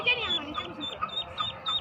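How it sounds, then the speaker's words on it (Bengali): Duck quacking in short repeated calls, a few spaced bursts, with people talking and moving about nearby outdoors. "দেখুন ওই যে হাঁস"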